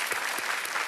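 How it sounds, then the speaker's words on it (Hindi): Studio audience applause on the Kaun Banega Crorepati quiz show, a dense continuous clapping crowd at steady loudness, with a couple of sharper claps standing out near the start. "एक बार फिर तालियां बज जाए रिचा जी के लिए"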